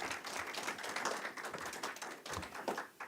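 Round of applause at a Medicaid funding news conference, dense continuous clapping from a modest crowd, fairly close and steady for a few seconds.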